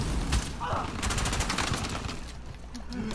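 Rapid gunfire from the Uncharted 4 video game, dense bursts and volleys crackling continuously throughout under a busy game mix, with a voice briefly heard at times.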